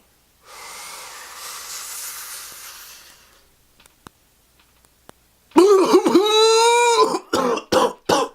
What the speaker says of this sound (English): I'm coughing my eyes out, dog.